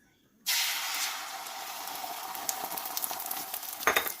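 An egg for a breakfast meal hits hot oil and bursts into loud sizzling frying that crackles and pops steadily, with small spatters growing toward the end.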